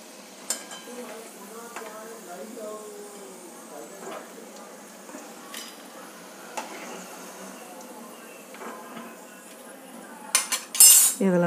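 Metal spoon clinks and scrapes against a pan while cauliflower masala is served, a series of sharp, close clatters scattered over several seconds with a denser burst of clanks at the end, light background speech underneath.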